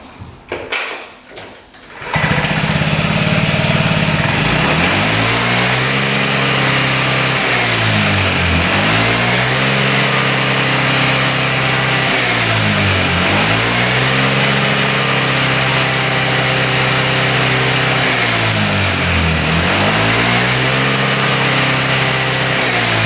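Small scooter engine fitted with a freshly repaired carburetor and replaced float needle starts up, then runs loud and steady, rising in three repeated rev swells and dropping back to idle, sounding slightly boggy, with no talk.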